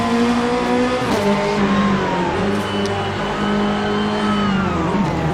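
A 2024 Corvette Z06 GT3.R with a 5.5-litre flat-plane-crank V8 revs loudly and continuously in the Assetto Corsa racing game, its sharp engine note rising and falling through gear changes and sustained high-rpm pulls.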